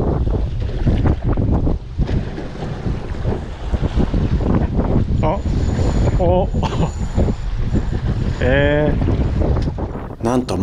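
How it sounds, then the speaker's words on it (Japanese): Steady wind and wave wash aboard a pleasure boat out at sea on a fishing trip, a loud continuous rush with wind buffeting the microphone, plus a few brief chirpy tones and short bursts over the top. "この日はやや風と波があります。"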